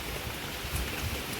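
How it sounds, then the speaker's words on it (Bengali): Steady monsoon rain falls outside a window, a constant broadband hiss with no voices in the clip. "আপনাদেরকে এই বর্ষা বৃষ্টিটা পড়েছে"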